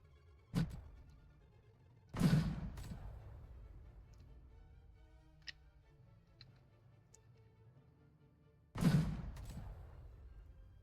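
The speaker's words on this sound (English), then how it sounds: "after a couple shots, the pillar will be completely destroyed" Shots striking a concrete pillar in the Airship Assault video game, three sharp booming impacts with short decaying tails, separated by quieter gaps with faint ticking.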